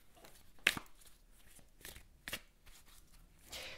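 Oracle cards handled and drawn from a deck: a few short, sharp papery snaps and shuffling rustles spaced a second or so apart against a quiet background.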